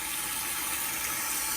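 Hot potatoes and their cooking water pour into a kitchen sink in a steady, rushing gush, close and continuous, with no one speaking.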